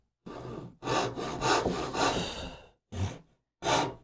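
A hand saw rasps through wood in quick back-and-forth strokes, a long burst of rhythmic sawing followed by two short final strokes.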